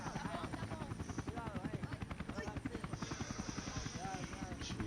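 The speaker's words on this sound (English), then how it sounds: "Jeez, helicopters are so scary" Helicopter from the video game Max Payne 3 thumps with a steady, fast rotor beat close by, running continuously under someone talking.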